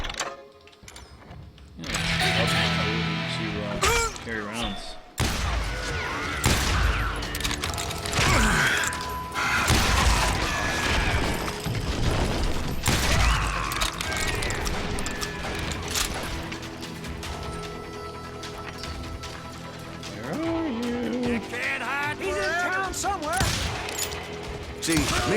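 Shotgun blasts and other gunfire from the video game Call of Juarez: Gunslinger, loud and busy, set among clanking mechanical effects and music through a long stretch of steady action.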